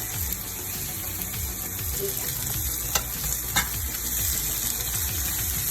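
Sweet peppers fry with corned beef and onions in a pan on a stove, a steady close sizzle with repeated stirring scrapes and a couple of sharp utensil clicks, no talking.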